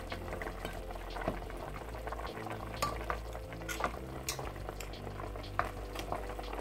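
Beef bouillon with bones simmering in a pot, soft continuous bubbling with scattered faint pops and small clicks, quiet and close, no talking.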